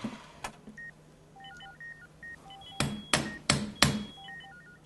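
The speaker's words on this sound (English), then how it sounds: "Hammer." Four loud, sharp hammer blows about a third of a second apart, struck after a short stretch of faint electronic beeps, as part of a carpet replacement skit.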